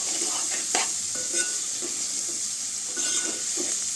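Carrots cook in oil in a pan with a steady sizzle and occasional stirring scrapes, close and moderately loud, with no talking.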